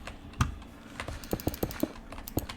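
Computer keyboard typing mixed with mouse clicks during a modded survival game session: a sharp close tap, then a quick irregular burst of clicks and keystrokes, loud and near with no talking.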